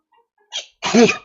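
A single sharp sneeze with a coughing edge, preceded by a brief breathy intake, loud and close with no talking.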